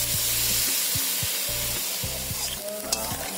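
Crab masala sizzles and fries loudly in a pan as water is added, with steady hissing and bubbling and a few stirring knocks throughout, close by with no talk.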